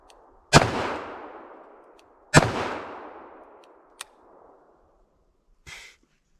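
An S&W Model 69 Combat Magnum revolver fires two loud, close outdoor shots about two seconds apart, each with a long trailing echo, followed by a faint click and a brief metallic sound.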